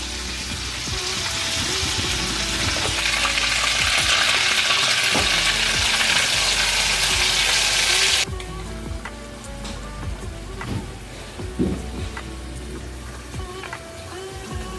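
Whole cumin seeds crackle and sizzle in hot oil, a dense, loud hiss for about eight seconds that abruptly drops to a quieter simmer dotted with scattered pops and a few soft utensil knocks.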